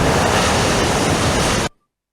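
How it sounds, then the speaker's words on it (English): Broadband rushing water, like waves washing or surf, fills the scene loudly and evenly before cutting off abruptly; no voices are present. "in the lapping of the waves,"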